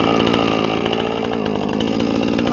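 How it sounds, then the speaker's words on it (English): A Husqvarna chainsaw cuts through logs with a loud, continuous, close-up buzzing whine that holds steady throughout, with no voices. "That chainsaw sucks"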